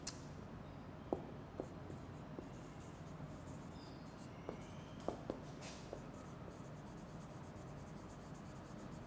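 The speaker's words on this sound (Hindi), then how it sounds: "उधर लिख भी देता हूँ आप बच्चों के लिए।" Marker or chalk writing on a board during an English lecture, faint scattered squeaks and taps across several seconds against a quiet room hiss.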